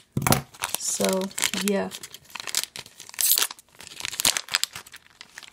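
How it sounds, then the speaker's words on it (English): Plastic crinkling and tearing as scissors open a Lego collectible minifigure pack, several loud close rustling bursts mixed with a speaking voice. "I'm actually going to open this one from the bottom. Just get my scissors right there."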